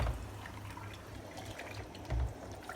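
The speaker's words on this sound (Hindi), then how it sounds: "जितनी हमने लस्सी डाली थी उससे डबल हम पानी डाल दें" Water pours into thick lassi in a pot while kadhi is being made, a quiet continuous trickle and splash with a brief low thump near the end, no talking.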